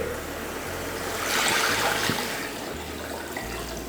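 Water pours into a pot in a short steady gush that swells in the middle and then tapers off, close by.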